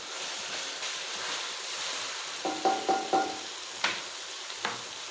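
Mutton karahi sizzling and frying over a high flame, a constant hiss of hot oil broken by a few sharp clanks of a utensil against the pan near the end.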